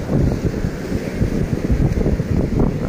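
Beach at Playa del Mayan, with a continuous rough rumble of breaking waves and wind buffeting the microphone, loud and steady with no clear voices.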